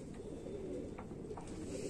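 Homer racing pigeons coo softly in a loft, with a few low, muffled calls over a steady background hum.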